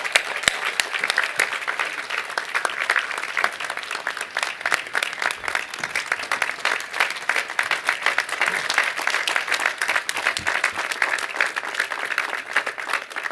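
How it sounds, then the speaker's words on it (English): Sustained applause at a university commencement ceremony, a steady, even roar of many people clapping that carries on without a pause for over thirteen seconds in a large space. "Another round of applause."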